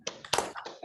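A class does a short group clap chant in a classroom: a quick burst of hand claps and taps in a short rhythmic pattern, close and fairly soft.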